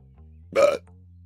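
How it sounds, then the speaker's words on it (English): A single short burp, close and fairly loud, rising out of a quiet background hum and stopping abruptly. "Don't burp in your dog's faces."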